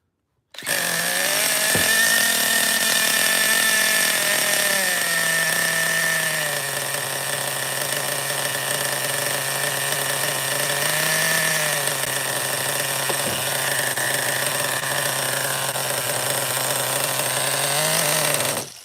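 A Schumacher XTR-3E model car's nitro engine fires up and runs continuously at a loud, high-pitched rev. The pitch dips and rises as the throttle is worked, then holds steady near the mic with no talking.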